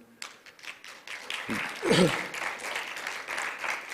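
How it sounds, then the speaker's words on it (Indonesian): Congregational applause fills a church service, a dense crowd clapping that builds and holds, with a voice briefly audible over it partway through. "Beri tepuk tangan"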